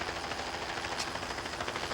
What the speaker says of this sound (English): that helicopter's here to take you